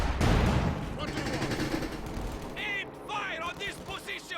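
Gunfire rumbles through a Company of Heroes 2 1v1 match, a dense barrage of distant shots and blasts under steady commentary from a caster.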